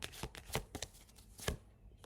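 Tarot cards shuffled and drawn by hand, a quick run of crisp riffling flicks and soft slaps, close and quiet, with no talk.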